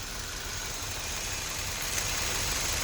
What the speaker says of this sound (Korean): 엔진 소리는 뭐 크게 문제 되시는 거 없고요